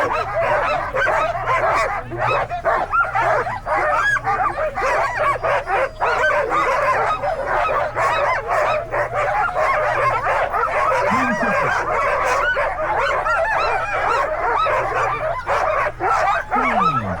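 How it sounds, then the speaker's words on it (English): Teams of sled dogs bark and yip without pause at the start line of the Kuskokwim 300 sled dog race, a loud, dense chorus of many dogs close by, with whines and yelps mixed in. "Both teams here, Aiden and Ryan, mushing out of Reddington Kennels"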